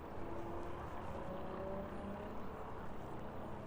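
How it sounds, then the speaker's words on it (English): An aircraft taxiing away from the runway at East Midlands Airport: a steady, distant low engine rumble with a faint whine, continuous and fairly quiet throughout. "So safely taxiing away from runway 27 then down in towards the maintenance area."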